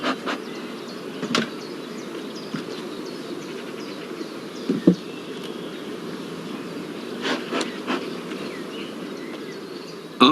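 Honey bees buzz around an open hive, the brood chamber lifted apart during inspection, making a steady low droning hum with a few sharper close passes and faint clicks of handled frames.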